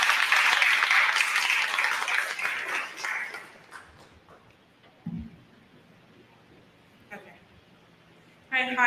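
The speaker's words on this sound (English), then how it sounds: "Everyone give a round of applause for Faith Scott" Audience applause for a student poet at a Witness Stones Project event in Hartford, a dense crowd clapping for about three seconds before fading out, followed by near silence with a few small stray sounds.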